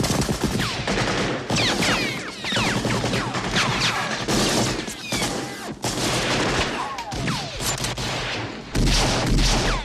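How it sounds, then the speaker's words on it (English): Gunfire from a movie shootout scene in a bar, with sound design by Ben Burtt: dense fusillades of loud gunshots and machine-gun bursts, with crashes and smashing debris, continuing across the whole span with only brief lulls. "The gunshots are almost like music."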